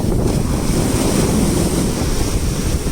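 Sea waves wash continuously onto a beach, a loud broadband roar with wind buffeting the microphone and no talk.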